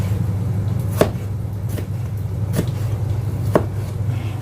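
Small fiery village chilies being pounded, with four sharp, spaced thuds landing roughly once a second over a low kitchen hum; no talking.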